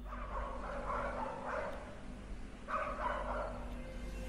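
Several dogs burst into loud barking and howling at night after a door is opened, two distinct bouts of excited yelping separated by a short pause, moderately close.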